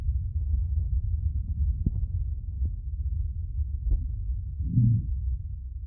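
Low, muffled thumping pulses beat steadily under a deep rumbling hum, with occasional faint clicks and a swelling throb near the end.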